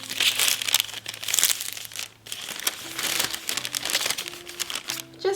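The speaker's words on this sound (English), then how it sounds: "I'm just going to fold it and make a little tray" Baking paper crinkles and crackles as it is folded by hand into a small tray for paraffin wax, a close, continuous rustle with sharper crunches and a faint hum beneath.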